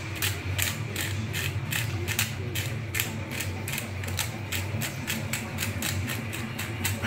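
Cracked pepper ground in a hand pepper grinder for a meatloaf-style meat roll, a steady run of close, rhythmic ratcheting clicks and crunches lasting several seconds.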